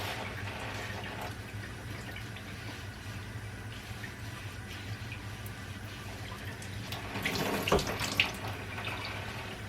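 A faucet runs steadily at a sink while a cast iron skillet is being cleaned, with a constant hiss of water that grows splashier near the end; no talking.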